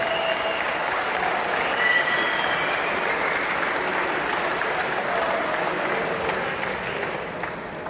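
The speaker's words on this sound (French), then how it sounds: "Je vous demanderai de faire un tonnerre d'applaudissements" Steady, dense applause from a large crowd at an MMA arena event, loud and sustained for several seconds with a slight fade toward the end.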